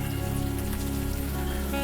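Steady rain falling in the point-and-click game Unavowed, a dense continuous patter of drops on hard surfaces layered over a low sustained musical drone, with no talking.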